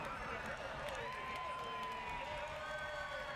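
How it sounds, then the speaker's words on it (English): Stadium crowd cheering at a NASCAR race at Kansas, a steady broad roar of massed voices with scattered clapping, distant and continuous throughout with no clear break. "Listen to this crowd."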